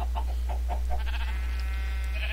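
Sheep in Minecraft give a run of short, nasal bleats close by, rising over a steady low electrical hum, with the calls spaced unevenly through the brief stretch.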